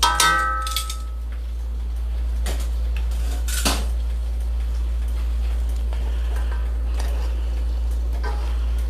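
A fish, coarse-salt poisson gros sel, is flipped in a pan on a stove, with a couple of sharp metallic clinks and scrapes over a steady low hum, followed by quieter light ticks and clatter.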